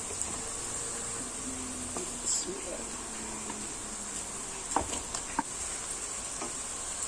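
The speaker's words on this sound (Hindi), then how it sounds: "और इसको हम मिक्स कर लेंगे अच्छी तरह और इसी में इसको अब हम भूनेंगे" Minced keema frying with browned onions in a cooking pot gives a soft, steady sizzle, broken by a few light scrapes and taps of stirring.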